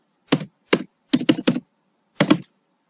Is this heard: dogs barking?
no